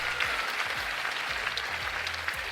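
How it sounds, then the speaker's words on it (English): An audience at a live magic show gives a dense, steady burst of applause, loud and continuous for a couple of seconds. "Big round of applause for Sos!"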